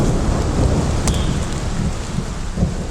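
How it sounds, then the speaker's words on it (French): A deep, loud thunder rumble rolls continuously beneath heavy rain, with a sharp crackle near the middle and no voices. "un grondement similaire à celui du tonnerre se fit entendre"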